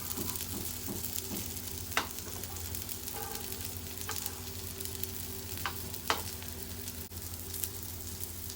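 Brinjal and potato slices fry on a tawa with a steady, moderate sizzle throughout, broken by a few sharp clicks and scrapes as the pieces are turned.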